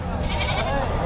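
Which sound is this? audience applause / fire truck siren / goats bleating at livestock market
goats bleating at livestock market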